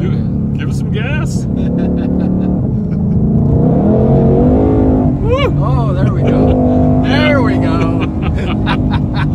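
A 2020 Shelby GT500 engine revs and accelerates, its loud, rising growl swelling and falling over several seconds while people talk and exclaim inside the car over the constant engine roar.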